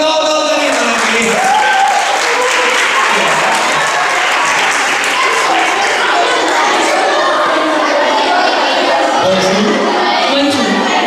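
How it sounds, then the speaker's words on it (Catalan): A studio audience breaks into strong, sustained applause for a guest introduced as arriving from France, clapping steadily and loud for about eleven seconds with some crowd murmur and voices mixed in. "Rebem amb un fort aplaudiment directament des de França al gran Monsieur Sadi Carnot"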